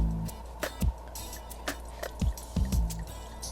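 White wine poured into a Thermomix holding softened asparagus for risotto, giving a run of irregular wet drips, splashes and glugs that sound close and fairly quiet over a low hum.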